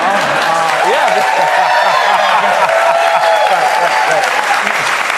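A studio crowd at a political cable news interview applauds and cheers in a sustained, loud wash of clapping while a voice talks over it.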